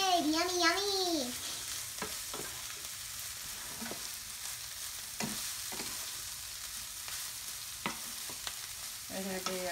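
Pork fried rice with broccoli sizzles and is stirred in a pan, with scattered scraping strokes over a constant frying hiss; a voice sings briefly at the start and speaks near the end.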